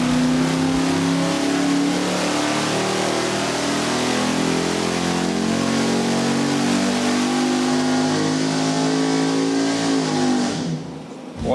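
A car engine on an engine dyno revs steadily from 3,500 to 6,500 rpm in one long, loud, continuous pull that rises in pitch, then drops off sharply at the end.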